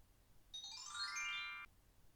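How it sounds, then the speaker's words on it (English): A single bright chime-like ring, steady for about a second, then cut off, faint against a quiet room. "Are those chimes available for purchase?"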